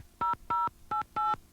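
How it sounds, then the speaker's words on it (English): Four short telephone dialing tones beep in quick succession, loud and clean, as a call is placed to a psychic hotline. "We tried by calling a psychic hotline ourselves."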